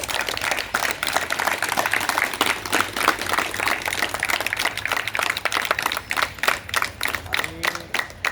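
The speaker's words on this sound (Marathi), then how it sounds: "त्यासाठी जरा जोरदार या ठिकाणी टाळ्या वाजवा" An audience claps in appreciation at a gathering honouring a young man who landed a government job, a lively, continuous round of applause with distinct individual claps, moderately loud and sustained throughout.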